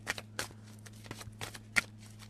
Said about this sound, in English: Damn, like I shuffled real good.